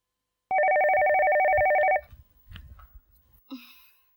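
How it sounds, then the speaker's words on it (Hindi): A telephone rings in a household scene from a Pakistani drama: one loud, steady electronic ring lasting about a second and a half, then cut off, followed by brief quiet speech. "अरे जरा देखना ये किसका फोन है।"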